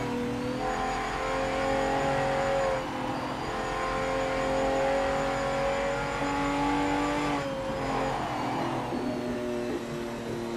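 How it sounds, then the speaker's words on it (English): Car engine revving in a PC racing video game, a continuous loud engine drone with shifting pitch rising and falling over ten seconds, no voices. "I'm trying to keep quiet while I'm revving the engine"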